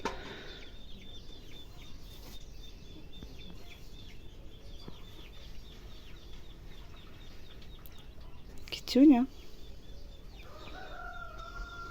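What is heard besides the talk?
rooster crowing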